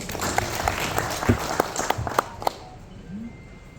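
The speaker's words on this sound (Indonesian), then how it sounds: "Tepuk tangan sekali lagi." An audience at a hearing meeting applauds, a burst of clapping that is loud at first, then thins out and fades within a few seconds.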